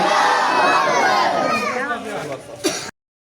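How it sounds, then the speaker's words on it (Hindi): A crowd at a street religious procession chants slogans in loud unison, a massed shouting roar that fades and breaks off abruptly. "आप सुने हमारे नारे।"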